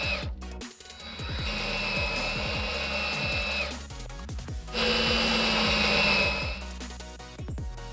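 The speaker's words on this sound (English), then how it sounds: "Secure them using the self-drilling screws, making sure the seals are flush with the inside filter box edge" A power drill drives self-drilling screws through a metal gully pit filter box into its bracket, whirring in two long sustained runs with brief pauses and clicking, close and fairly loud.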